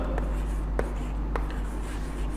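A word being written on a board, with a steady scratching stroke sound and a few sharp taps over a constant low hum, close and fairly loud.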